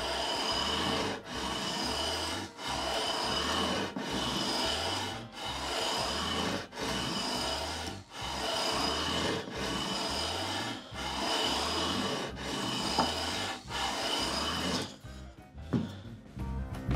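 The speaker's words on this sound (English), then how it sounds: "Switching over to the leveling beam, holding it at an angle." Leveling beam rubbed across the frets of a stringed instrument: a rhythmic series of about a dozen close, raspy scraping strokes, each a second or so long with brief pauses, ending in a few scattered handling sounds.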